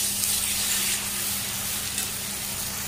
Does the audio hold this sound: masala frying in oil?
yes